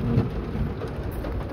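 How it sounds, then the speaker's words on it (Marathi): Heavy rain pours steadily at a beach area in Goa, with low rumbling thunder blending into the dense, continuous downpour; no voices. "पण पाऊस थांबतच नाही"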